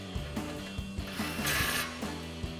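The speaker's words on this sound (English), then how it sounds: "Tighten that back down with our 21 mil socket." A socket ratchet tightens a 21 mm nut on a front upper control arm of a 2004-2020 Ford F-150 during a suspension install, giving close, repeated bursts of clicking over a steady tonal background hum, with no talking.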